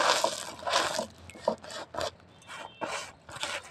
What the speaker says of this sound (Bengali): এই যে তোমার বস্তায় ঘষলেই উঠে আসবে